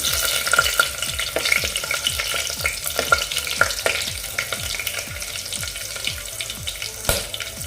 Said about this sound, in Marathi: आता मी पहिल्यांदा या दोन मिरच्या घालून घेते